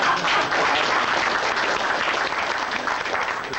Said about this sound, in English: Have a little applause.